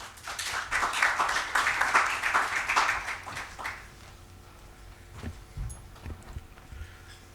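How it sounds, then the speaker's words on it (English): A conference audience applauds the Minister, with dense, moderately loud clapping for about four seconds before it thins out to a few scattered claps and room noise. "a warm round of applause for the Minister"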